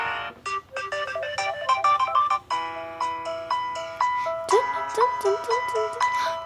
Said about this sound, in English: I have this song for a ringtone.